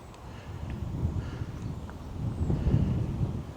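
Low, rumbling wind buffeting the microphone, gusting steadily and growing stronger toward the end, with no voices.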